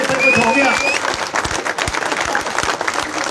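A big crowd at an election rally claps loudly and steadily, a dense roar of many hands with single sharper claps standing out near the front and a high whistle at the start.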